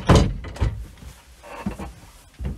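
Cabin door on a Privilege 39 catamaran, giving a loud thunk up front, a second knock just after, softer handling noise through the middle and a final bump near the end.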